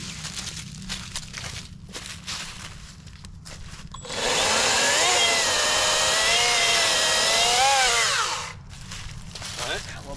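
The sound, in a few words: Harbor Freight Atlas 40V cordless chainsaw cutting a tree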